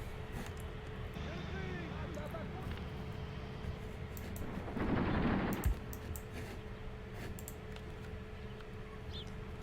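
Gunfire in the war game Graviteam Tactics: Mius Front, scattered distant shots and bursts over a steady low rumble, with a louder cluster of reports midway and a voice talking throughout.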